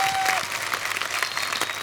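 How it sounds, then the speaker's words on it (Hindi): Loud, dense studio audience applause on the set of a Hindi comedy TV show. A continuous wash of many hands clapping fills the whole stretch, with a faint tone briefly audible at the start. "एक बार बोल बच्चन फैमिली के लिए जोरदार तालियां हो जाएं।"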